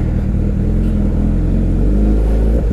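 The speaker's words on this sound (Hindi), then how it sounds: "थोड़ा सा ट्रैफिक है रोड्स पे" Steady loud engine drone of road traffic around a Hayabusa motorcycle ride, with a continuous low rumble and revving vehicles close by, no voices.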